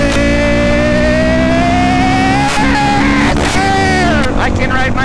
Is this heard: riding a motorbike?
yes